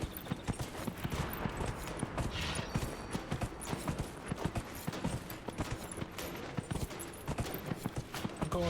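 Rapid horse hooves clop continuously at a steady gallop, close and fairly loud, with no voices.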